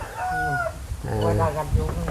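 A rooster crows loudly nearby, drawn out and rising, while other chickens cluck and call close by.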